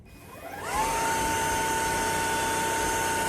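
A cordless vacuum cleaner on its lowest setting whirs up from quiet to a steady, loud motor hum with a high whine, running continuously.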